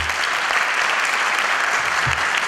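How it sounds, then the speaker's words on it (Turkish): Audience applause during a theatre rehearsal of Six Characters in Search of an Author: steady, dense clapping that continues loudly throughout. "Tekrar alkışlamaya devam edersin."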